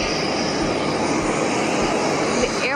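Steady, loud broadband roar of an airliner cabin in flight on approach to Malta International Airport, a continuous engine and airflow drone filling the whole clip with no breaks.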